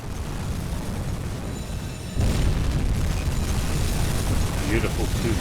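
Torpedo explosions hitting a ship in the submarine game Uboat: a heavy boom erupts partway through, followed by a sustained low rumble and roar, with faint creaks and hisses over the din.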